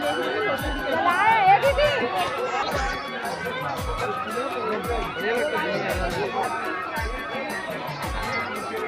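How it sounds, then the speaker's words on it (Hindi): Dense crowd chatter at a village fair in Thanaud, a continuous close hubbub of many overlapping voices with occasional laughter, steady and loud with rhythmic thumps underneath. "बहुत भीड़ है वे"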